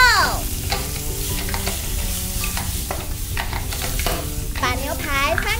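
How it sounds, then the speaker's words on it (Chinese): A raw steak sizzles in a toy iron pan during play cooking, with steady frying hiss and a spatula scraping and stirring throughout. Bright electronic chirping tones rise over it near the end. "开始煎牛排喽。"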